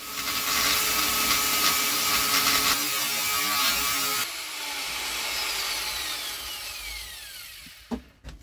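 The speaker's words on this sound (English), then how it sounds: "I will grind this stuff off, the sprue, of course the riser, and I will grind it a little bit" An angle grinder cuts away the sprue and riser of a freshly cast aluminium warhammer head, a loud, harsh continuous grind that shifts in tone and then winds down with a falling whine, ending in a few clanks.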